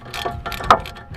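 A ratchet turns a 10mm ABS cable bolt on a Hyundai Tiburon during a strut change, making a quick run of close mechanical clicks over a second or so.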